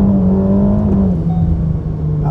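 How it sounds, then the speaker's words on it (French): A 2021 Ferrari Roma with 612 horsepower accelerating, its engine a loud, close, steady drone that dips slightly in pitch partway through. "Accélération."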